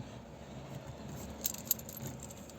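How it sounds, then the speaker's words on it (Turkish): Car keys jingle as the key is pulled from the ignition, a couple of brief metallic clinks over a quiet low background hum, close and fairly soft. "Anahtarımızı çıkarıyoruz."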